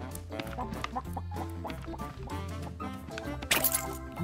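Cartoonish chicken clucks and squawks from a handyman video game, with chickens being caught and dropped off, sounding over busy game music with a bright burst near the end.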